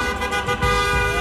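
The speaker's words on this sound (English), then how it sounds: "They've been getting a honking spree." Car horns honk in a city street during a curfew protest, a loud, sustained blare of overlapping horns continuing through the whole moment amid traffic noise.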